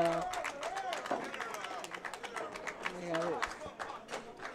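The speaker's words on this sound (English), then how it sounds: "applause you hear is Earl Strickland just defeated John Moore in that match" Applause from a pool hall crowd at the 2015 Steinway Classic, scattered clapping continuing under a commentator's voice.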